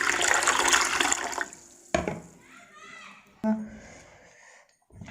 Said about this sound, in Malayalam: അപ്പോൾ നമുക്ക് ഇനി ഇതിൽ വെള്ളം ഒഴിച്ച് കൊടുക്കാം